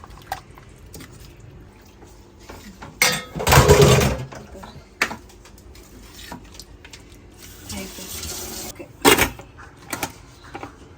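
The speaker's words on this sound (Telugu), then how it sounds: "సో ఇంకా కొంచెం వాటర్ వేస్తాం." Water is poured into a pot of mutton curry with yogurt, cooked for bagara rice: a short splashing gush lasting about a second, followed later by another brief pour, set among kitchen clatter and scattered clicks.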